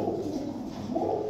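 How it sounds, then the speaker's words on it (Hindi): Indian pigeons coo softly and continuously in a brief, close, low-pitched burble. "इंडियन कबूतर"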